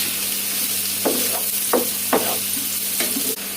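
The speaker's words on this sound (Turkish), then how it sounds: "Şimdi patlıcanları kavuracağız." Eggplant pieces sautéing in a pan for a Turkish eggplant börek filling give a steady, close sizzle, broken by a few sharp scraping stir strokes.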